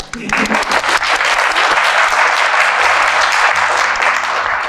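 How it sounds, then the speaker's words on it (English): Loud, sustained audience applause fills a graduation reception for international students, a dense wash of many hands clapping close by, swelling after a brief start and holding steady throughout. "all of us graduates, we need applause because we made it."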